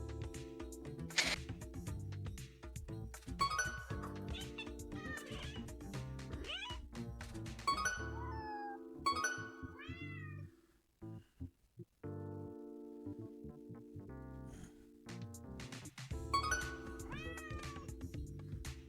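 Kittens in the video game Hidden Cats in Istanbul meow repeatedly, high rising mews scattered over a droning background melody, with a brief quieter gap midway.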